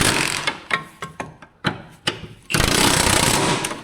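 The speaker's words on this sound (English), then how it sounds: "Now we'll just grab the impact and we'll," An impact wrench tightens strut bolts on a 2010-2015 Camaro: a run of sharp, separate clanks and bursts, then a loud, sustained rattling hammer close by that lasts to the end.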